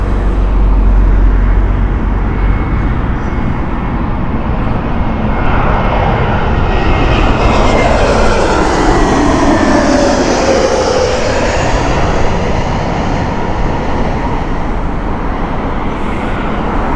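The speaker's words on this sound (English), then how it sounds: "The Neo here with its huge oversized engines, we'd love to see them here." An Airbus Neo airliner with large jet engines passes over Heathrow Airport, a loud, continuous roar that swells and falls with a sweeping pitch shift as it goes by, with road traffic noise underneath.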